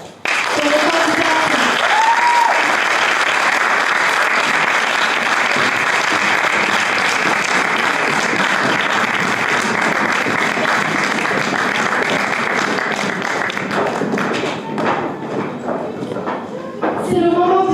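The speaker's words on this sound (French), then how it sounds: "Je vais vous demander un tonnerre d'applaudissements pour les candidats." Sustained, loud audience applause for Miss France 2026 candidates fills a large hall, dense clapping with some cheering that holds steady throughout before thinning slightly near the end.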